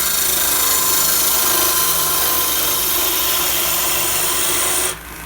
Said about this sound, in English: start the lathe back up at about 1600 RPM, and I'm just going to start out with the bull gouge just to hog out a little bit of wood